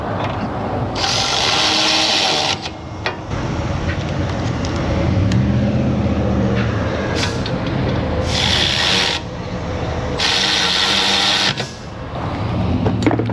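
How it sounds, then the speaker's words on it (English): A quarter-inch drive ratchet clicks and rasps in a busy auto shop, bursts of rapid pawl ratcheting rising over a continuous loud mechanical rubbing background. "Back in with the quarter drive."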